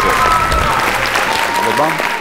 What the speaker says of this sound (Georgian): მამხნევებს თქვენი აპლოდისმენტები